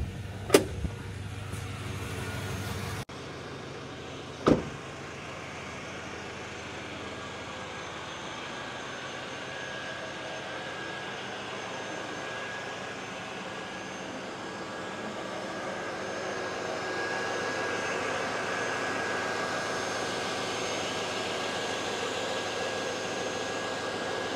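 A 1983 Chevy C10 pickup with a built 350 V8 starts after a couple of sharp clicks and a brief crank, then settles into a steady, throaty idle that swells slightly louder toward the end. No one speaks.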